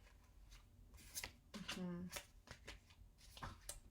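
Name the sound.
tarot cards being shuffled and drawn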